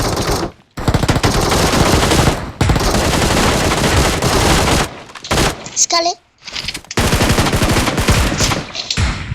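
Automatic gunfire in a shooting video game comes in long, dense bursts, loud and close, broken by short pauses, with players talking over it.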